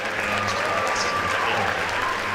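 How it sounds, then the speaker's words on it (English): Audience applauding at a school district band concert, a steady dense wash of clapping from a crowd that holds evenly and loudly for the whole stretch. "So let's give a round of applause for the next"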